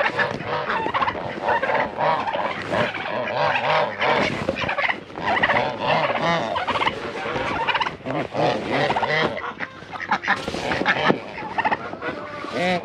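Farmyard poultry including ducks, geese and chickens clamour at feeding time over waste bread, with dense, continuous honking, gobbling and squawking close by and loud throughout.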